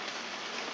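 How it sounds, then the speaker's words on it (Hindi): Heavy rain pouring down during sunshine in the monsoon month of Sawan, a soft, steady, even hiss of falling drops with nothing else heard. "देखो इतनी तेज़ बारिश स्टार्ट हो गई और साथ में धूप भी है"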